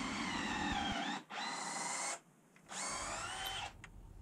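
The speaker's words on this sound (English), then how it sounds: "I'm going to use pocket holes and screws for this instead" A drill drives pocket hole screws into a wooden frame in three close whirring bursts, each high buzzing run stopping abruptly with short pauses between.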